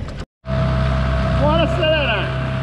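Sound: motors on a kayak accelerating

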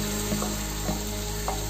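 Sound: cooked dal added to sizzling tempering

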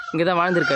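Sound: peacock calling at palace

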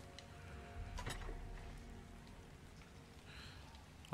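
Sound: rain

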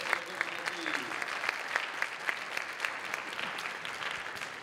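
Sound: audience applause

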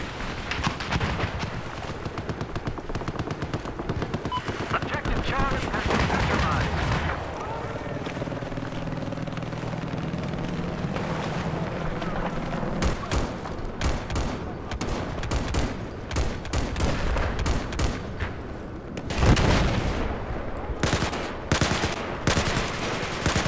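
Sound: gunfire in the video game Battlefield 4

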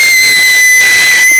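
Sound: voice imitating a whistle

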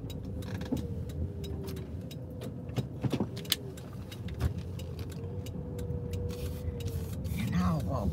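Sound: car being parked

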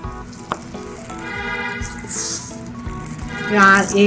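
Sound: mustard seeds and cumin frying in oil

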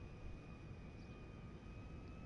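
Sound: large airplane engine accelerating in video game GTA 5

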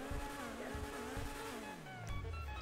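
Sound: car engine in video game GTA 5 Online

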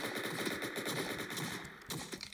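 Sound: gunshots in the video game Entry Point

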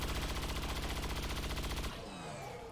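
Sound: gunshots in XCOM 2 video game

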